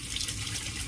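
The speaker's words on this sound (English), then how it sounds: "wash my hands off real quick" A kitchen tap runs while hands are washed, giving a steady, close hiss of flowing water for a brief moment, with no talk.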